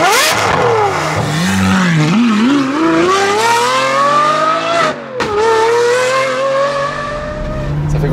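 A Lamborghini Aventador SVJ fires up and pulls away, its V12 revving loudly with rising and falling pitch sweeps and a sharp blip, harsh and close throughout the short burst.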